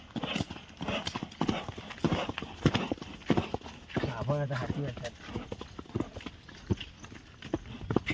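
A mare's hooves clop in an irregular, prancing rhythm close by as she dances on a rope, with someone speaking over the steps.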